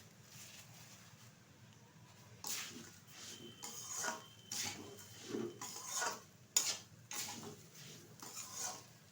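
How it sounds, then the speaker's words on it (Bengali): Cashews and raisins being stirred into pulao rice in a pot, a series of quiet scraping and clinking strokes of a spoon against metal, close but faint, irregular and without talk. "এর মধ্যে নেড়ে চেড়ে নেব চালের মধ্যে"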